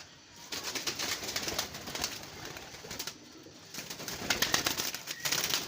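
A pigeon coos nearby in soft repeated throaty calls, with a light rustle of wing movement in the background and no talking.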